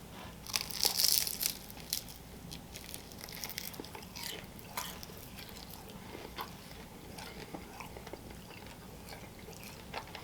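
Crunchy curry chicken wing bitten into close up, a sharp crackling crunch followed by steady crisp chewing and crinkly crunching, with no talk.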